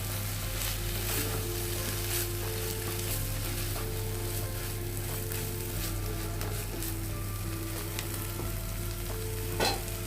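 Fish roe fries in a pan with a constant close hiss over a low steady hum, while scattered scrapes and taps from stirring come through, one louder scrape near the end, with no voices.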